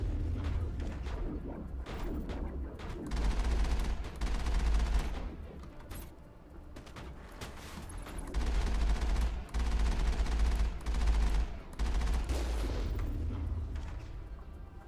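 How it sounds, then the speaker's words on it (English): Sustained automatic machine gun fire from the Mass Effect video game, fired in pulsed bursts with deep booming low end and brief gaps between volleys, dense and loud throughout. "pulsing my machine gun so it doesn't overheat."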